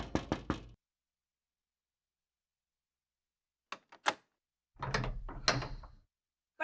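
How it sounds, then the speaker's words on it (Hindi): A door is opened indoors: a few quick knocks or rattles, a pause of silence, then short clacks and a longer scraping, clattering handling of the door and latch. "मैं खोल के आती हूँ दरवाजा।"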